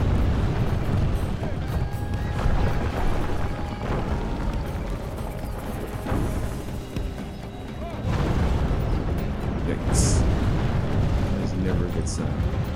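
Siege artillery fires on city walls during a Medieval II Total War siege battle, dull booms rolling within a dense, continuous battle din at moderate distance.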